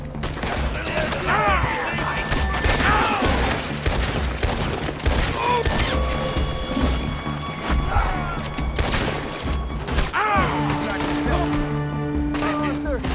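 Gunfire in the video game Red Dead Redemption 2, dense volleys of sharp, loud shots cracking in rapid bursts throughout, mixed with game music and effects, while a person talks over the action.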